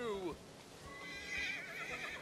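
A horse whinnies in the video game Tiny Tina's Wonderlands, a quick descending neigh at the start, followed by soft hoof clatter and game sounds at low level.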